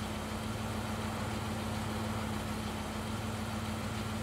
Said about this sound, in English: The sound of an engine brought me back to reality.